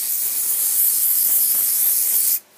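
Hairspray hisses in one continuous, loud, close aerosol burst onto a hair bun. It stops abruptly near the end.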